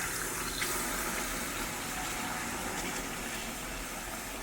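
Water pours into a pan of besan halwa, a steady broadband gushing that stays constant and fairly loud throughout, with no talking.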